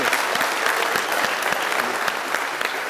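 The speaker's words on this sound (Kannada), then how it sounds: "ಜೋರ್ ಚಪ್ಪಾಳೆ." Loud, sustained applause fills a Kannada TV game show studio after a contestant's strong play, dense clapping continuing evenly throughout without talk.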